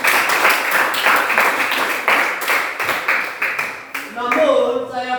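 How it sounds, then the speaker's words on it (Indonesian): Applause in a classroom after group presentations, many hands clapping steadily and loudly for about four seconds before it thins out, with voices rising at the end. "Tepuk tangan dulu."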